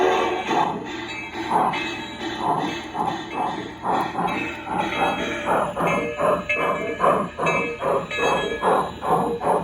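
A model locomotive runs along a layout in a garage, giving a rhythmic clattering rumble of wheels over rail joints that pulses steadily and fairly loud throughout, with no talk over it.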